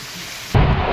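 Heavy monsoon rain over a flooded village, a dense broadband hiss that jumps abruptly louder about halfway through the brief moment, with no voices.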